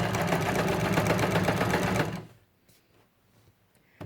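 Sewing machine quilting a plush-and-synthetic-batting blanket, a loud steady whirring stitch run at moderate speed that stops abruptly halfway, leaving near-silence and a faint click at the end.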